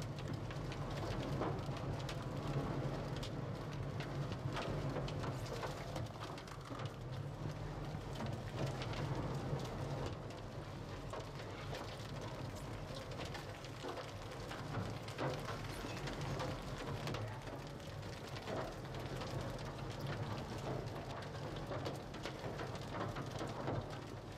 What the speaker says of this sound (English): So that was from a storm chaser, so he was seeking out dangerous weather, but you can get caught in large hail